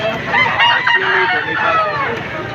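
Loud, overlapping rooster crows and chicken clucks fill the air, dense and continuous, as if many birds are calling nearby, at a chicken market in Padre Garcia, Batangas.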